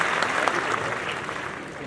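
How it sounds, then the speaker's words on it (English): Steady applause from an audience, dense clapping that holds at an even level throughout with no break. "I think we should have gotten a louder round of applause for him"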